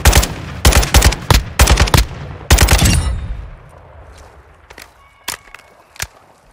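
Machine-gun fire in Modern Warfare 2 on PS4, five rapid loud bursts of close shots in the first three seconds, then fading to a few sparse, fainter distant single shots.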